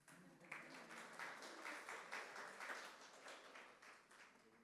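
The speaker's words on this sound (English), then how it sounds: "You can clap." Audience at a UI/UX design talk claps steadily for several seconds, moderately loud and even, then slowly tapering off.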